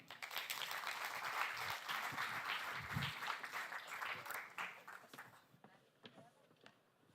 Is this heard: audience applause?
yes